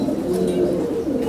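Lakka pigeons at a pigeon farm coo close and loud in a low, continuous throaty murmur, several birds overlapping with faint background noise.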